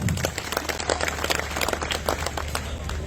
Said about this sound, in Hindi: ताली बजाओ अपने लिए एक बार।